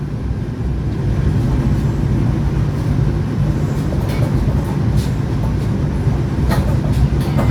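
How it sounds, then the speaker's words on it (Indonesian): A Tegal Bahari passenger train arrives at Bekasi station, a steady low rumble of the train rolling in with faint clanks and squeals over station ambience, moderately loud and continuous, with no clear speech. "Kereta api Tegal Bahari tiba di stasiun Bekasi di jalur 3."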